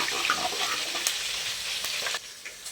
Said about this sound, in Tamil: இதுவே நல்லா பொன்னிறமாக வதங்கட்டும்.